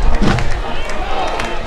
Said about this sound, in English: That just gets the crowd all fired up.